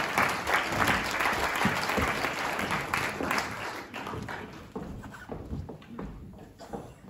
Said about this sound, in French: Je vous demande d'applaudir Emmanuel Berger.